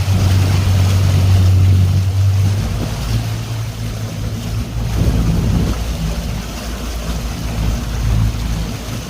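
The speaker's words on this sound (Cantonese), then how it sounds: "大風大浪，你見到咧白頭浪都比較多，同埋咧大家可能會感受到咧我嘅船咧係拋得好緊要啊。" A boat pitching hard in rough, wind-whipped seas with whitecaps off Hong Kong: a steady low engine drone and heavy wind buffeting the microphone, with surging wash swelling mid-way, loud and continuous, no talking.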